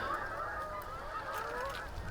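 A flock of geese honking continuously, overlapping calls at moderate distance with steady outdoor background noise and no talking.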